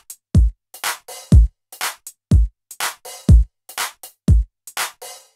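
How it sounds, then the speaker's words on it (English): Hip-hop groove drum pattern programmed on a Yamaha QY70 sequencer: punchy kicks, crisp snares and hi-hats in a loose swung rhythm, repeating over two bars, loud and dry with no talking. "in this case hip-hop. My drum pattern will now sound like this."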